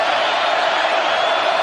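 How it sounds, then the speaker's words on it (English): Football crowd at Sanford Stadium on third down: a dense, loud, continuous roar of many voices that holds steady and fills the whole stretch. "Third down, crowd noise begins to rise here at Sanford Stadium."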